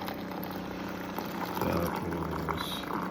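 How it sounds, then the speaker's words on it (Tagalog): Hot water poured from a kettle or dispenser into a cup for a morning drink, a steady close splashing and gurgling pour lasting a few seconds with faint background noise. "Ang ginagawa ko, nilalagyan ko ng hot water."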